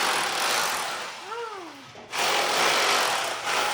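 Workers run a power drill in a continuous harsh, grinding roar that briefly cuts out near the middle and then resumes at full loudness.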